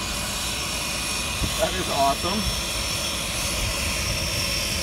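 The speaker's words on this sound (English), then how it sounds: "this is not something that we're normally used to encountering in our cruising, is freaking airplanes landing." Landing airplanes drone steadily in the distance, heard from a Catalina 22 sailboat near the Dry Tortugas, with a brief voice speaking over the hum partway through.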